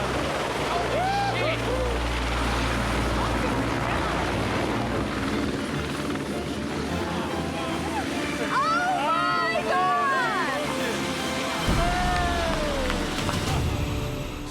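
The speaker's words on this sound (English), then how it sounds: "What's that? Is that a chopper?" A helicopter arrives overhead with a steady loud rotor drone that runs throughout, while people talk and exclaim excitedly over it at close range.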